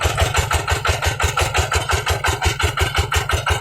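A tractor engine runs steadily while plowing and covering furrows in damp field soil, a loud, close, rhythmic chugging with regular pulsing beats and no talk over it.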